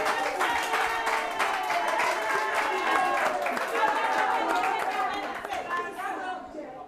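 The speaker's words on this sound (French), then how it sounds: "On applaudit très très fort." An audience at a community event in Agboville, Côte d'Ivoire, applauds steadily with dense, loud clapping, mixed with crowd chatter and voices, fading slightly toward the end.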